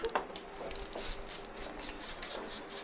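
A ratchet working on a cylinder head bolt of a BMW S1000RR motorcycle engine during teardown, steady repeated clicking and rasping strokes at close range with metallic scraping throughout.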